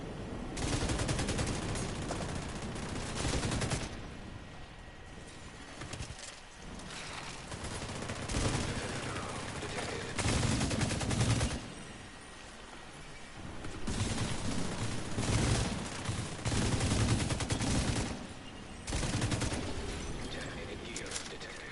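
Gunfire in The Division 2 online shooter: sustained loud bursts of automatic fire in long stretches separated by brief lulls, dense and continuous with no talking.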